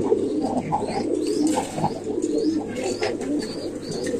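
Male pigeons cooing in a pigeon loft, a steady overlapping chorus of low throaty coos close by, with occasional wing flutters and faint chirps.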